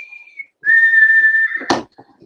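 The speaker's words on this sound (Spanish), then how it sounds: "o el silbido" A person whistles a steady pure tone, held clearly and fairly loud for about a second, alone, followed by a brief clatter and a short gap of near silence.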